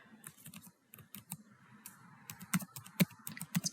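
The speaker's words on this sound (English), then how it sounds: "let's go ahead, type that" Close computer keyboard typing in bursts of quick, uneven key clicks, with short pauses between words and a few sharper, louder strokes near the end; no talking.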